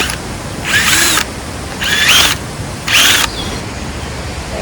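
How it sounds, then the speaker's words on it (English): A power drill bores holes into garden soil for planting zinnias, cleome and snapdragons, three short loud whirring bursts separated by brief pauses, close up with no talking. "And then we're just gonna drill a bunch of holes."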